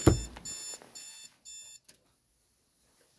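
An alarm going off during a church sermon: a loud burst, then several short, repeated electronic beeping pulses over about two seconds, then quiet.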